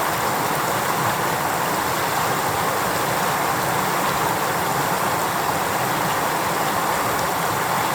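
A large river in Anchorage, Alaska rushes steadily in a dense, constant wash of flowing water, loud and close, with no voices.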